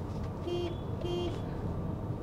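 Horn of a 2020 Toyota Corolla Cross Hybrid gives two short, evenly spaced beeps with a plain, thin tone, heard over a steady background rumble.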